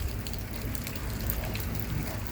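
Steady rain falls outdoors during a summer yoga session, a constant soft hiss and patter with no breaks, fairly quiet and even throughout.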